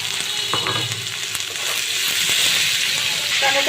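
Potatoes and onion frying in a pan with green chili and turmeric, a steady close sizzle with faint scraping stirs and occasional small crackles throughout.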